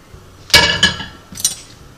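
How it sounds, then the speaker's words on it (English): Cut potato halves drop into a pot of Banza chickpea penne with zucchini and yellow squash, giving a couple of sharp clinks against the metal pot followed by a lighter third clatter. "Now carefully add your potatoes to the mix."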